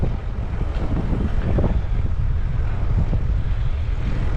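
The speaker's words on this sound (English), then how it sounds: "First of all, apologies for the wind." Wind buffets a microphone during a bike ride in Japan, producing steady, loud, low rumbling gusts that continue without pause.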